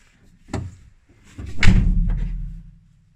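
A Renault Twingo car door opens with a short clunk, then swings shut a second later with a heavier, louder thud that rumbles briefly before fading, recorded close up without talking.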